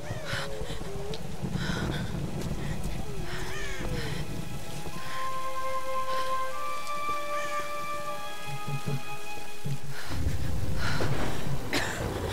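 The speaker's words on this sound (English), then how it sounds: "Take shelter from the storm." Rain and a storm in the Tomb Raider video game, a steady hiss of falling rain under scattered game sounds and a sustained tonal passage, with a gusty surge near the end and no speech.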